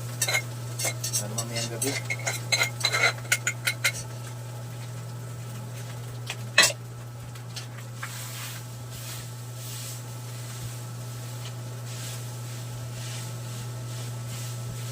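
Fried rice being stir-fried in a pan with a metal utensil, clattering and scraping in a quick, busy burst early on, then one sharp clank before settling into a steady low hum with faint sizzling; a voice speaks briefly.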